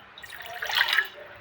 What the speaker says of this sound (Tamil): கொஞ்சம் வந்து தண்ணி ஊற்றிக்கலாம்